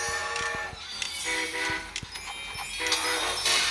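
A long train rolls past in the Train Conductor World video game, its horn sounding in repeated tonal toots over a steady rumble of wagons, with a sharp clack or two between, loud and close with no talk.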